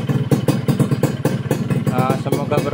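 A Suzuki Satria two-stroke motorcycle fitted with an aftermarket chrome exhaust idles up close in a steady, choppy burble, while someone talks over it.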